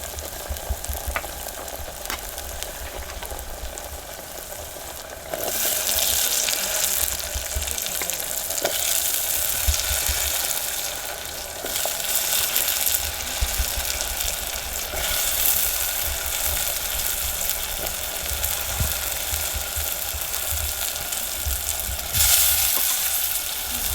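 Elephant foot yam (suran) hits a hot, spiced pan in a village kitchen and sizzles steadily, the frying growing louder after a few seconds, with occasional stirring scrapes and no talking.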